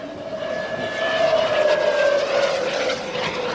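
A model jet aircraft's jet-like engine whine passes overhead, rising to a loud, steady tone mid-clip before slowly fading, with a faint higher whistle above it, at a model jet flying event.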